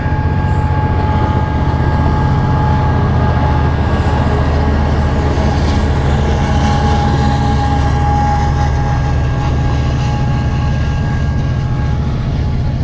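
Interior of a moving passenger train near Denair, California, with a loud steady rumble and roar that fills the whole stretch, a low droning hum and constant rattling with no pauses.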